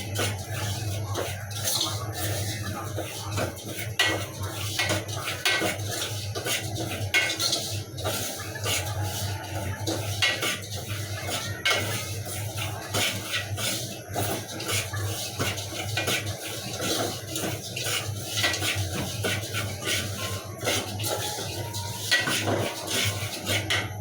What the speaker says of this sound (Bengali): তো আমি এখন হালকা ভেজে নেব, কারণ এটা অনেক দিন হয়েছে তো গ্রান নেই।